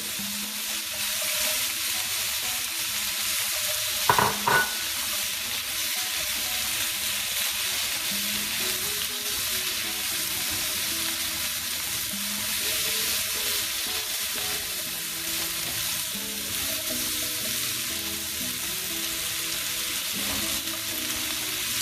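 Shrimp and bok choy frying in a very hot pan, a steady loud sizzle that fills the whole stretch, with a brief clatter of stirring or utensil contact early on.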